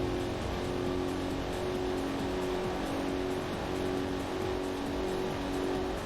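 A 1978 Corvette C3 engine in the racing game Corvette: 50th Anniversary holds a steady, droning rev under a constant hum of road and wind, loud and unbroken throughout.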